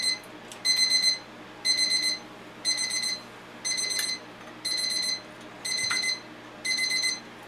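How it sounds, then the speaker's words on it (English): A kitchen timer set for baking bread pudding beeps in seven evenly spaced bursts of rapid pulses, loud and clear over a quiet room with no talking. "That was a timer for the bread pudding."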